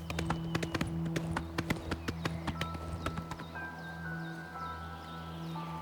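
Horse hooves clip-clop in the video game Oblivion Remastered, a quick, even run of hoofbeats over a steady low music bed, then fading as the game score carries on.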